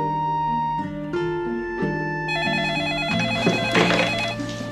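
A telephone rings with a melodic electronic ringtone, a sequence of bright stepping tones repeating steadily and fairly loud, with no voices.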